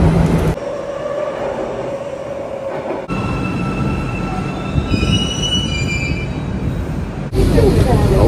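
An Istanbul metro train pulls into an underground station, wheels squealing in high, sustained tones over a rumbling rail roar that swells loud near the end, with a brief hush partway through.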